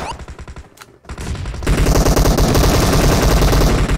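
Rapid automatic gunfire in PUBG Mobile, a brief burst then a short pause before a long, loud, continuous stream of close shots in tight rhythm.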